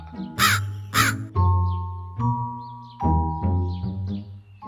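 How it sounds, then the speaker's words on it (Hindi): A crow caws several times in a row, harsh and loud, with soft musical tones ringing between the calls. "एक कौवा पानी की खोज में व्याकुल इधर उधर घूम रहा था।"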